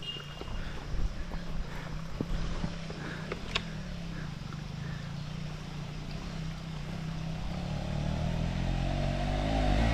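A motorcycle engine climbs a steep rural hill outside Pokhara, Nepal, its note rising and swelling louder toward the end, with clattering of loose gravel and a few sharp knocks along the way.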